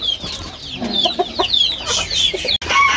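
Adult Egyptian Fayoumi chickens cluck and chirp close by in a rapid, overlapping series of short, high calls that carry on steadily with no voices.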